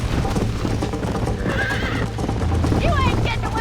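Horses in the Red Dead Redemption video game whinny loudly and gallop with rapid hoofbeats, a shrill neigh rising over the pounding, with voices talking over the action.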